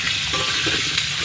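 Meat cooks in oil in a pot over a wood fire, giving a brief, dense, even sizzle heard up close without any voices.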